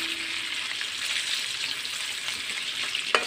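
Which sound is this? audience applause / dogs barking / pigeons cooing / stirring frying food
stirring frying food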